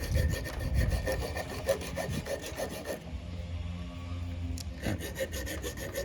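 A bare hacksaw blade with no frame rasps in quick, rhythmic back-and-forth strokes, close up, cutting an automatic gear lever bushing on a Toyota Vios, stops for a moment, then starts cutting again.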